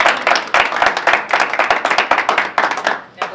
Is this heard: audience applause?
yes